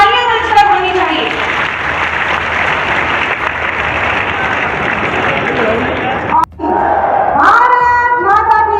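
A crowd at a rally welcoming the chief minister breaks into loud, steady applause that carries for about six seconds, with a brief cut, then a voice over a public address system speaks over fading claps.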